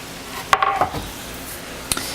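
Diced broccoli with mushroom walnut bolognese gets tossed in a sauté pan, a soft steady sizzle broken by a few sharp utensil clinks and scrapes against the pan, no voices.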